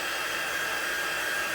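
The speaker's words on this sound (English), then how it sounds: "So I'm just running my heat tool back and forth" A Stampin' Up! heat tool blows hot air for embossing, a steady loud whooshing fan roar like a hair dryer, constant and unbroken with no talk.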